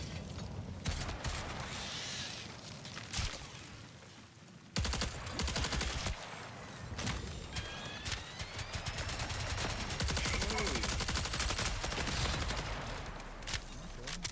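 Automatic turret gunfire in the Marathon video game, sustained rapid bursts mixed with explosions and other game effects, with some talk over the combat.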